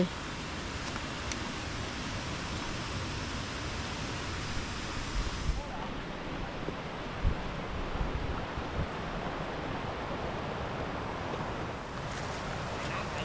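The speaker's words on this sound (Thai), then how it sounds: "เสียงน้ำตก เสียงน้ำไหลอยู่ข้างล่าง" A waterfall on Doi Thulae mountain, with water flowing below, fills the scene with a steady, dense broadband rush that stays loud and even throughout.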